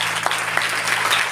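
A church congregation claps in a steady patter, a dense, close wash of hands with a few sharper individual claps standing out and a faint hum underneath.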